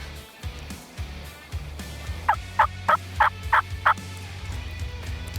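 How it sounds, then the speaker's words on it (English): A wild spring gobbler turkey sounds off with a rapid series of six loud, rattling gobble pulses in quick succession, moderately near, over a low rumbling outdoor background with no talking. "he gobbled over the collar"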